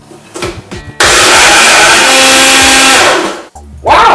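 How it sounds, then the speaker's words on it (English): A blender whirs loudly and steadily for a couple of seconds while mixing vegan red velvet cake batter, then cuts off, and starts up again just before the end. "Put the lid on it and move to the blender."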